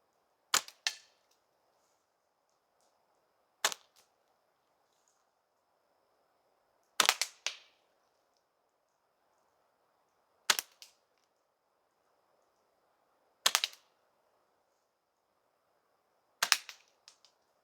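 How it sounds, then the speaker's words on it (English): Six sharp shots of steel shot fired at a target from about six yards while screen tent camping, each a loud crack spaced roughly three seconds apart with brief echoes, over near silence. "I'm going to fire 3 rounds of the larger steel shot and then 3 rounds with the small one."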